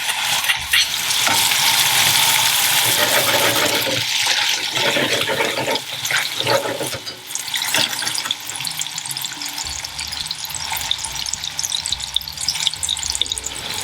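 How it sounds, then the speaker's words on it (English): Peppers and onion fry in oil in a pan, a loud, close, steady sizzle with stirring scrapes and clatters, easing slightly toward the end. "is we're just going to soften the peppers and the onion."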